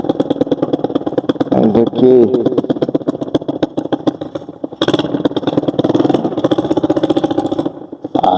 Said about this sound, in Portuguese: Desculpa aí o barulho aí do escapamento.